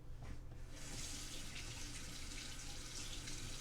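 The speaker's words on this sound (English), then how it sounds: "turn your water on, and just test it out." Water runs from a household tap after the hot and cold lines are switched, a steady hissing gush that stays even throughout, close and fairly quiet with no talk.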